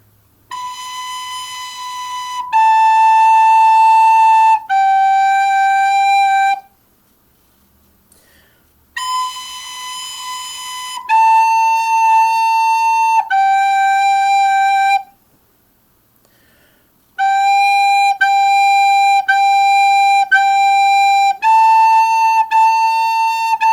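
A recorder plays Hot Cross Buns, a simple three-note tune in clear, sustained tones, repeated in phrases separated by short pauses, close and loud.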